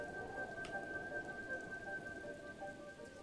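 Steady rain falls in The Legend of Zelda game, a dense, continuous hiss of drops on surfaces that stays even and fairly loud, with a faint tonal hum underneath.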